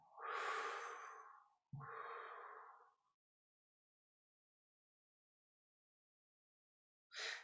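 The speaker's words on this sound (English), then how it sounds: "Inhale and exhale." Slow, deep breathing during a guided meditation: a long inhale, then an exhale, followed by silence and another breath beginning at the end, close and clear.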